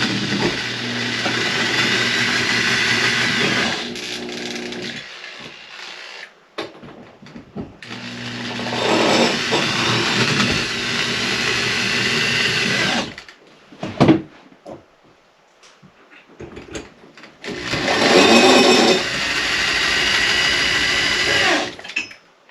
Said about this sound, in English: Let's drill them in.